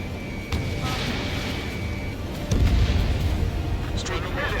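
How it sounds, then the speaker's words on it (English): Enemy tank fire in the combat flight game Ace Combat 7, with a few muffled booming shots over a steady engine drone and radio chatter, the heaviest blast landing near the middle. "We're taking fire from multiple enemy tanks!"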